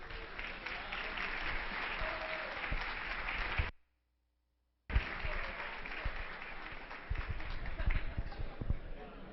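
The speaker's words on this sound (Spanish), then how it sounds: "Démosle la bienvenida entonces al doctor Rafael con un caluroso aplauso." Warm applause from a conference audience greeting Dr. Rafael before his bioethics talk, a dense, steady clatter of many hands that breaks off briefly and then resumes just as strongly.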